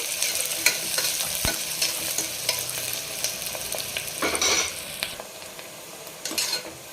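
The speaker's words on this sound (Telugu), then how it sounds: "ఉల్లిపాయలు వేగినాయండి" Onions frying in a pan for gongura mutton, a continuous sizzle broken by scraping stirs and occasional sharp clinks of a spoon against the pan, close and alone.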